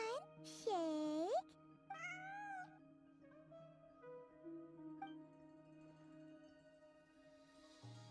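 A cat in the video game Genshin Impact gives a few clear, drawn-out meows close up, alone at first, followed by quieter in-game speech and soft background music.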